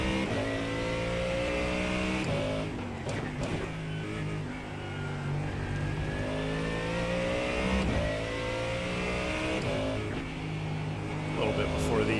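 A GT3 race car engine in the iRacing simulator drones and revs continuously with rising and falling pitch, staying steady and fairly loud under a voice talking throughout.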